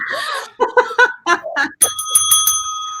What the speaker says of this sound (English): I got my bell here.